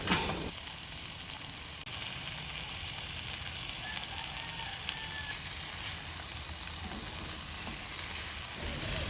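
Sautéed eggs with tomatoes sizzle steadily in a frying pan, a continuous close hiss with faint scraping as they are stirred. No voices.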